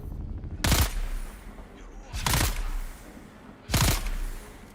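Three widely spaced gunshots ring out in the video game Dune: Awakening, each a sharp loud crack followed by a short decaying tail, with roughly a second and a half of quiet room tone between them.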